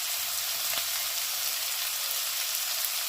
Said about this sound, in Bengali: পেঁয়াজটা একটু ভেজে নিই।